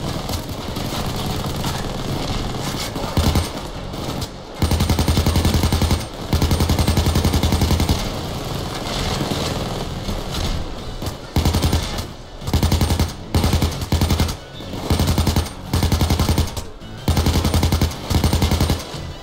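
Light machine gun in the video game PayDay 2, firing loud sustained automatic bursts close up, broken by short pauses and quicker choppy bursts, with engine-like rumble beneath and no talking.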